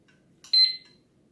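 A single short electronic beep from a kitchen timer, bright and sharp, sounding once in an otherwise quiet room.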